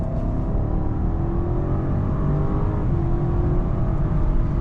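A 2021 BMW 750i with a 650 hp V8 pulls hard at high speed on a motorway, a steady low engine drone and road roar from inside the cabin.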